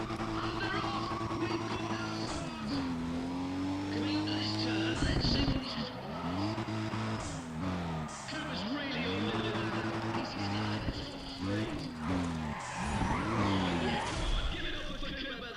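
A Toyota Supra drifts in Need for Speed, the engine revving up and down through repeated shifts with tire squeal and skidding across a long continuous run, while someone talks over the game sounds.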